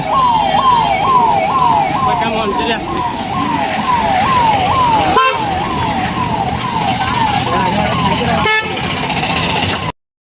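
A police car siren wails steadily in a repeating two-tone sweep, loud and close, running nearly the whole time over the background rumble of traffic, with a brief break partway through.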